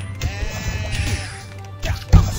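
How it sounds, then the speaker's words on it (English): A sheep in a video game gives a loud, close, wavering bleat, followed by a second shorter bleat after a brief pause. "There's a sheep up there."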